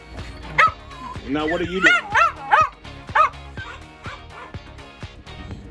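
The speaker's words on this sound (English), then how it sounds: "pardon the noisy chihuahua. He barks at everything going on around us" A small chihuahua barks repeatedly at a motorhome campsite, sharp yappy barks and whines in a quick irregular burst, close and loud, with someone talking over and between them.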